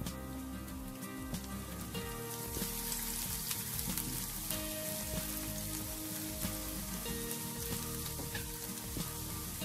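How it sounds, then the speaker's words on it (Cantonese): Steady, close sizzling of minced garlic stir-fried in hot oil, with crackling pops and occasional scraping of a utensil throughout. "爆一爆呢個蒜蓉"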